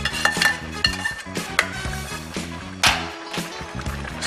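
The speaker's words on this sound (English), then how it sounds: "Stir it in." A spoon clinks and scrapes against a pot while sauteed vegetables are stirred into collard greens, several close metallic taps and rattles over a low steady cooking background.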